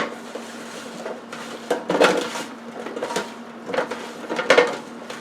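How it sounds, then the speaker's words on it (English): Garlic paste is mixed onto potatoes in a bowl, producing repeated dull knocks, scrapes and soft squelching bumps at an uneven rhythm, close and moderately loud. "just mix that garlic paste onto all of the potatoes"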